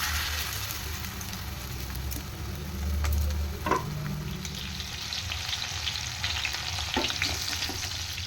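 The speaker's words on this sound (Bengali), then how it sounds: "চিকেনটা রেডি দিয়ে মানে ভেজে নিই" Chicken pieces frying in hot oil in a home kitchen pan, with onion, ginger and garlic chopped nearby, give a steady, close crackling sizzle with a few louder pops throughout, and no voices.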